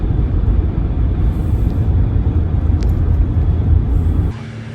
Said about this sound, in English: So driving to the track now, and we'll get everything set up.